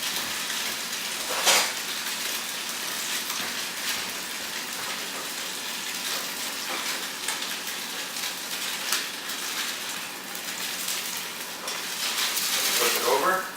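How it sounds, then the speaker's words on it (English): Salmon frying in hot canola oil in a pan, a steady hiss of sizzling throughout with occasional louder spits and crackles, a person talking faintly over it. "And you want to hear a little sizzle."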